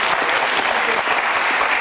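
A studio audience at a juniors quiz show applauding, a dense, steady burst of clapping from many hands that fills the whole moment with no break.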